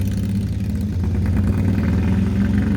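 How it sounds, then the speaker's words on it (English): A Harley-Davidson motorcycle rumbles past, with a steady, loud, low throb that holds throughout and no talk over it. "gotta love when motorcycles go by. I love that Harley."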